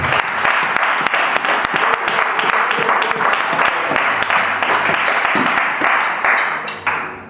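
Applause from a church congregation, dense sustained clapping filling the room for several seconds with faint voices mixed in, tailing off at the very end.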